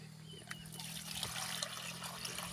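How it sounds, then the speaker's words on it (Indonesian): Water poured into a container while being topped up toward 17 litres, a steady trickling stream, fairly faint over a low hum, no speech. "Kita tambah lagi airnya"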